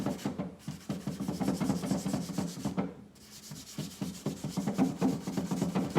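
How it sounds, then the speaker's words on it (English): A stripping pad scrubbing chemical stripper into an old furniture finish makes rhythmic, close rasping strokes in quick succession, with a brief pause midway before the scrubbing resumes. "squeeze some of the stripper just directly onto my stripping pad. And I'm gonna go back over just these kind of tough areas."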